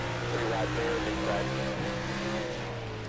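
A truck engine in the NR2003 racing game, running a 2009 Craftsman Truck Series mod, drones steadily and shifts up into third gear partway through, its buzzing tone holding loud and close throughout.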